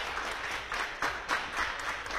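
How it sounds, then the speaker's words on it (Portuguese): Short burst of studio applause in a TV program, a small audience clapping in soft irregular bursts for about two seconds. "para quem eu peço uma salva de palmas"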